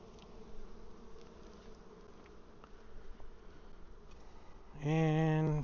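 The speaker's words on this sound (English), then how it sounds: "And so that's about 300 bees." Honeybees buzz in a dense, steady swarm as hives are shaken for a mite wash, a continuous insect hum that runs throughout before a brief, louder tonal burst at the end.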